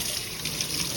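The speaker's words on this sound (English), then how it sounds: "Can you wash your hands with your soap?" Water from a tap running steadily over hands being washed with a homemade soap bar at a sink, a continuous close splashing hiss.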